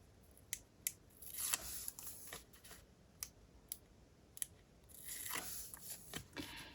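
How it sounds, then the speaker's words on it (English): Double-sided tape backing peeled off by hand for a DIY craft stamp, heard as a run of close, dry crackling and ripping bursts with brief pauses between pulls. "now you just peel that off, the backing of this double-sided tape"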